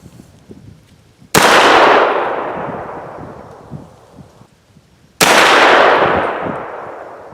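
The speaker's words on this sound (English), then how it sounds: "So I'm going to shoot one at dot 2 and then go back and fire the next one at dot 1." A 300 Blackout rifle firing lead bullets lets off two loud, sharp shots about four seconds apart. Each blast rings out with a long, echoing decay, and no one speaks.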